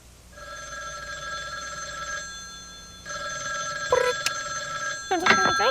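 A telephone rings with a bright electronic bell tone in two long bursts separated by a short pause, clear and fairly close, with brief clicks and a rising sweep near the end.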